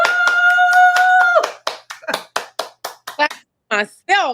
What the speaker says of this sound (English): Clapping for myself. Clap for yourself